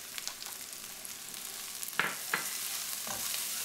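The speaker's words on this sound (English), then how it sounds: "stir it around just for another minute. You don't want your onion and garlic to burn." Onion and garlic fry in a pan with a moderate sizzle, as a utensil stirs and scrapes the pan with a couple of sharper clacks near the middle.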